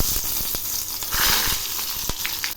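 Chopped onion frying in hot mustard oil with nigella seeds, a loud, close, continuous sizzle with occasional crackles and pops throughout.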